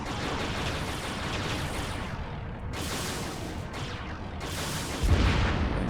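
Heavy weapon fire in a Star Trek Invasion space combat game, a dense sustained roar of blasts with louder bursts in the second half and no pauses.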